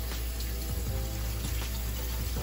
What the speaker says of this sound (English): I'm just gonna give it a rinse with some cold water here.